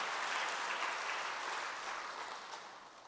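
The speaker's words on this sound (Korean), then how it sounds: "여러분 박수 좀 쳐줘" A church congregation claps during a Sunday sermon, a dense wash of applause from many hands that slowly fades over a few seconds.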